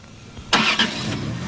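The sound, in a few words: vehicle driving off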